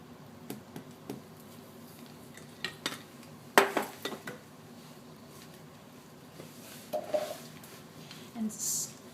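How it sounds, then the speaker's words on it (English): A spatula scrapes down the sides of a mixing bowl of pale, whipped mixture, giving soft scraping strokes and a few sharp clinks against the bowl with quiet gaps between them. "let me go ahead and scrape that down"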